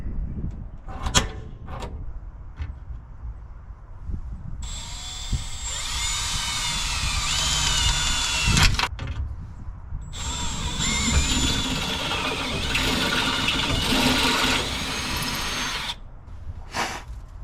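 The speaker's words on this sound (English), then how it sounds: "you can watch me drill a hole" A power drill whines at high speed in two long bursts, grinding through thin sheet metal on a 1956 Willys wagon, with clicks and handling clatter before and between.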